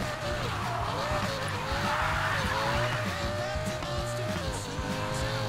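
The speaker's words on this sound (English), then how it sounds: "Practice a little bit of drifting on the way up" Need for Speed Payback car drifting with a continuous, loud tire squeal that rises and falls in pitch over a steady engine roar, sustained throughout with no pauses.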